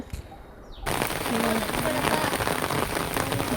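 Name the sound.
heavy rain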